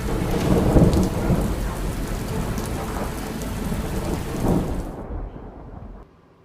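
Heavy rain pours down over Rajendranagar Park in Ahmedabad with deep thunder rolling through it, a dense, steady downpour that stays loud before fading away near the end.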